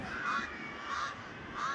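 Crows give three harsh, evenly spaced caws at moderate distance, each a short rasping call over a steady background, with no talking heard.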